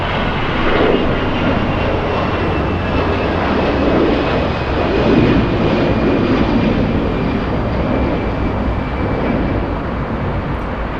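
A jet airliner takes off at Los Angeles International Airport with a loud, sustained roar of engines that stays powerful and close the whole time, with a faint whine running through it.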